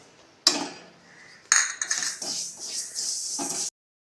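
Black sesame seeds dry-roasting in a kadai, heard as intermittent scraping and rattling bursts with light crackles, close and fairly quiet, without speech.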